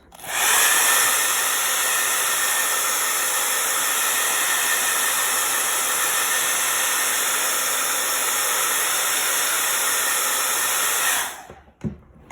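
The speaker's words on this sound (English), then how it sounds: "I'm just gonna hit it with my blow dryer." A handheld blow dryer runs steadily and loudly at close range for about eleven seconds, drying fresh paint on a spring garden gnome, then cuts off abruptly.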